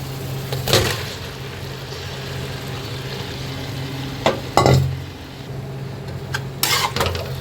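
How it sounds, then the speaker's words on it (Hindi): Masala frying in separated oil in a home kitchen pan as mashed potatoes are tipped in, a steady close sizzle with a few louder stirring scrapes and clatters, no talking. "तो मैं इसमें डाल दूँगी मैश किए हुए आलू सारे"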